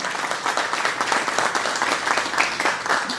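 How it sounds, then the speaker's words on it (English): Crowd applause at a business recognition event, steady dense clapping from many hands throughout, moderately loud with no talk over it. "Let's give him a big, big round of applause."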